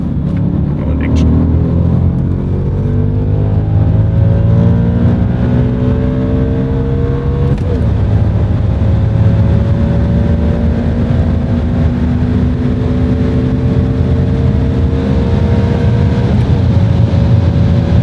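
An Audi RS4 B7 accelerating hard from inside the cabin, engine note rising through repeated gear pulls with brief dips at the shifts, loud and continuous, with people talking over it.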